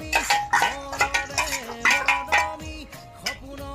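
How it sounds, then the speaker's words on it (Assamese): A utensil stirs frying onions in hot oil with bay leaves and dried red chillies, giving repeated scraping, clinking strokes against the pan in an irregular rhythm, fairly close and clear. "পিঁয়াজখিনি তেল মাৰি লওঁ।"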